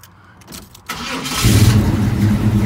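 A 1977 Chevrolet C/K10 Blazer cranks briefly with a few starter turns, then catches and settles into a loud, steady idle close by.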